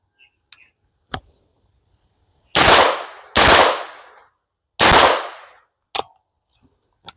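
A Davinci DG-9 PCC with an ETS magazine fires full metal rounds: three loud, sharp reports spaced about a second apart, with a few softer clicks around them and no speech.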